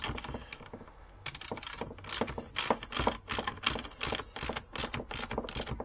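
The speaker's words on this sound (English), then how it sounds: "Just tightening these up now a little bit." Ratchet tightening bolts on a Puch SR motorcycle seat, with quick, close bursts of clicking pawl strokes repeating in an irregular rhythm, fairly quiet and without talk.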